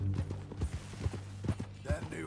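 Horse hooves clip-clop at a steady walking rhythm in Red Dead Redemption 2. Evenly spaced, fairly close hoof strikes sound over a low droning background, with a faint voice-like tone near the end.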